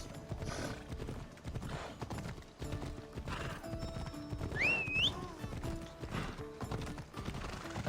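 Horses gallop in a race toward a bridge south of Sparta in the video game Assassin's Creed Odyssey, with rapid rhythmic hoofbeats, a sharp whinny midway and faint mechanical clicks underneath.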